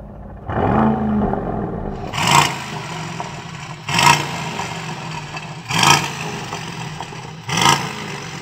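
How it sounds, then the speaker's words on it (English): An Aston Martin DBX707 sits at a standstill, its engine catching and then blipped through four sharp, roaring revs spaced about two seconds apart, each falling back to a rumbling idle, loud and close. "Now let's have a listen to what noise you can make with these cars when you rev them at a standstill."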